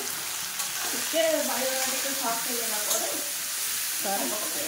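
Eggplant frying in a pan makes a steady, close sizzle throughout, with a spoon stirring now and then and faint voices in the background.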